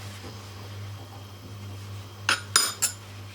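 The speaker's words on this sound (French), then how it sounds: "je vais passer les cuillères en désinfectant si vous voulez" Metal spoons clink against each other and a bowl while being disinfected with alcohol during cosmetic cream preparation, three quick bright clinks near the end of a quiet stretch with a steady low hum underneath.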